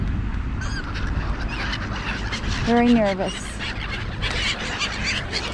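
Gulls call out in cold evening air, with a short cluster of harsh, falling cries in the middle, while a person talks nearby throughout and other birds and ambient noise continue underneath.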